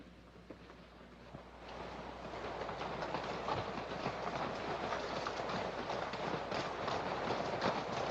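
A moving train rumbles steadily with a rhythmic clickety-clack of wheels on rails, growing slightly louder after the first couple of seconds.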